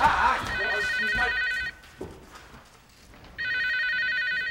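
An old telephone rings at home in two bursts of rapid electronic bell trills separated by a pause, loud and near, with voices talking in the room underneath the first ring.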